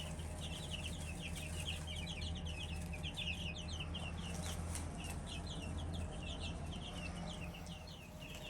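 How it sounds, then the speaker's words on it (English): Twelve baby chicks, one of them a Cornish hen chick, cheep continuously in rapid high-pitched chirps, close by and overlapping, above a steady low background hum. "12 little chicks."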